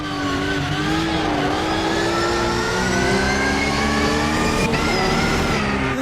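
Race car in the Automobilista 2 sim game, with a steady, loud mid-pitched engine drone and tire wash as it ploughs through puddles on a wet track, continuous and close throughout.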